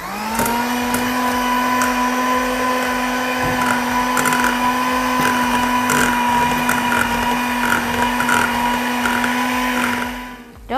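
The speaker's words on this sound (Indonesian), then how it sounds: "Kita mixer cream cheese-nya dulu dengan kecepatan sedang ya," An electric mixer beats cream cheese at medium speed, a loud, close, steady motor whine that holds evenly with faint scraping ticks and briefly dips near the end.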